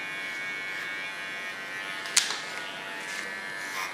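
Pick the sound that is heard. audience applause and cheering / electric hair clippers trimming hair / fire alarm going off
electric hair clippers trimming hair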